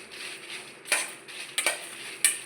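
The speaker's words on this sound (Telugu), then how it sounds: "ఇవి కూడా డ్రైగానే వేపుకోవాలండి" Cumin, coriander seeds, dried chillies and garlic dry-roast in a pan without oil, giving a soft rustle of stirring broken by a few sharp scrapes and clinks of the spoon against the metal.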